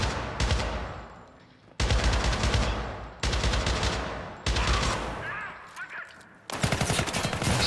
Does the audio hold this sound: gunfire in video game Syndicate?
yes